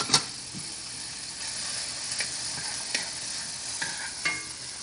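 Fresh ingredients with garlic tossed in a pan, a faint steady sizzle with several brief scraping and clattering knocks of the pan at irregular intervals.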